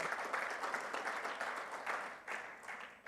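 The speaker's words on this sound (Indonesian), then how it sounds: "Berikan tepuk tangan." A church congregation claps together during a Sunday worship service, steady applause heard from a distance that fades briefly and then picks up again.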